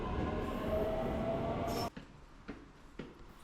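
Subway train in Fukuoka, Japan, rumbling loudly and steadily up close, then dropping off abruptly into quieter station ambience with a few short thumps and clacks.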